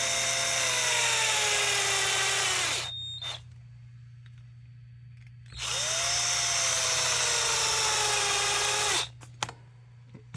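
Power driver spinning two 30 mm screws into the front arm bulkhead of a Losi 22S RC car mid-motor conversion, two loud sustained whirring runs that slow and drop in pitch at the end, separated by a short pause.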